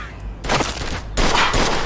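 Gunfire rattles in a shootout in the Mafia II Definitive Edition game against greasers, two loud dense bursts of rapid shots close by.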